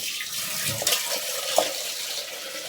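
Fish being washed under running water from a tap, a steady broadband splash with a couple of brief louder spatters, close and alone.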